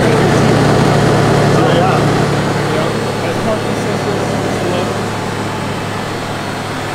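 A pickup truck engine held at high idle, a loud, steady droning hum with an even low rumble throughout, with no break.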